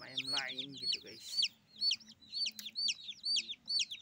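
Colourful backyard chickens clucking in a rhythmic series of short, bright calls, close and clear, with a brief voice at the start.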